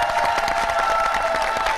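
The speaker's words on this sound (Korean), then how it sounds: "날라와주신 일본 팀에게도 다시 한번 뜨거운 박수 부탁드리겠습니다" A studio audience at a Korea versus Japan magic competition gives warm applause with scattered cheers, a dense, lively clapping that continues throughout.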